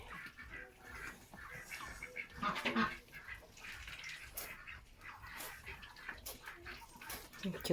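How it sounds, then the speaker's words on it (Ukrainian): Ducks quack repeatedly on a rabbit farm in the morning, a busy, overlapping chorus of squawks and honks that sounds moderately distant against steady outdoor background noise. "Ой, качки кричать так."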